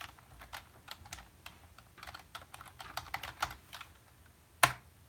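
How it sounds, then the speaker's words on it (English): Typing on a computer keyboard, a run of light, uneven key clicks close to the mic, closing with one sharp, louder key strike, and no voices over it. "I will type the band name."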